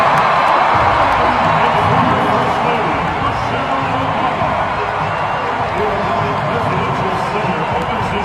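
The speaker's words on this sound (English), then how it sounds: "the camera panned to them, and the crowd cheered" Large arena crowd at the All-Star game cheering for the Obamas, a loud, continuous roar of voices with whoops and some clapping, steady for eight seconds.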